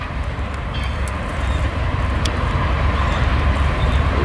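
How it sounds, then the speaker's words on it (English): A slow-moving train passing at a distance outdoors, a steady low rumbling roar that swells gradually, with a few faint squeaks on top and no talk. "There's a train, it's going really slow."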